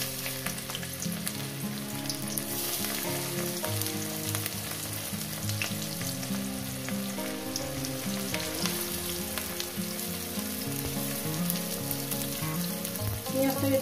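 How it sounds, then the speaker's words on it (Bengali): Onions and dried red chillies sizzling in hot oil for a Bengali stir-fry of water spinach with prawns, a steady close crackle with occasional stirring scrapes running throughout, no talk. "কয়েক সেকেন্ড ভেজে নেওয়ার পর আমি এখানে দিয়ে দেবো পেঁয়াজ।"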